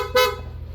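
Aftermarket PIA horn fitted to a Yamaha NMAX V2 scooter gives one short, loud, close-up blast over a low idling engine hum.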